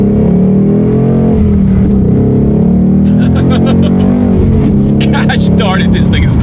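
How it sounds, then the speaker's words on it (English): A 2019 Ford Mustang Bullitt with a six-speed manual accelerates hard from inside the cabin, its V8 drone loud and steady and its pitch climbing through the gears. "I think it is time to do a quick little acceleration here in the 2019 Bullitt"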